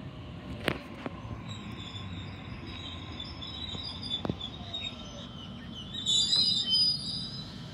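An A10 set passenger train on a Liverpool service pulls into platform 2 at Chester Hill, with rolling rumble, a couple of sharp clanks and high wheel squeal that swells near the end, heard from the platform.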